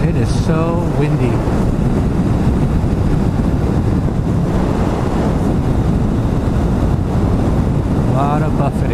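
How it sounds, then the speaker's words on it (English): Heavy wind buffets the microphone in a constant low roar while riding a Kawasaki Vulcan S motorcycle up a mountain, with a voice cutting in briefly at the start and end. "A lot of buffeting."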